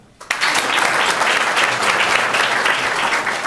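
Audience at a folk concert bursts into applause after a brief quiet moment, a dense, steady clapping from a large crowd that holds loud and even to the end.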